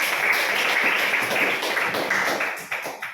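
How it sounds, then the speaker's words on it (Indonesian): A classroom group claps for two students, a short burst of brisk, fairly close applause that fades slightly at the end. "kita tepuk tangan dulu untuk Maya dan Maya"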